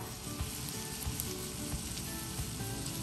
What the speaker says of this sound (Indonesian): Sekarang daging kita masukkan. Dan kita masak sampai daging matang dan berwarna kecoklatan.